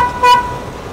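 A car horn honks close by, a short loud toot with steady tonal harmonics that swells around the middle of the second over a constant roadside hum from the running car.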